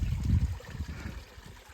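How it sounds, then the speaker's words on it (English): Light rain shower beside a moorland brook, soft trickling and dribbling water close by, strongest at first and then fading to a quieter gentle flow, with no talking. "Unfortunately, it has started raining in the last couple of minutes."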